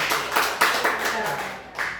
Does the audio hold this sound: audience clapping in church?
yes